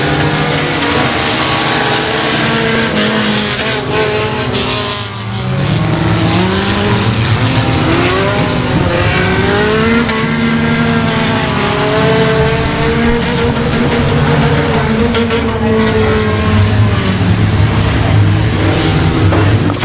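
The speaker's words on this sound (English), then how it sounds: "Four-cylinder heat race is underway." Four-cylinder race cars in a heat race at Boot Hill: loud engines rising and falling in pitch as the cars sweep past at speed, continuous and close, with a tire squeal now and then.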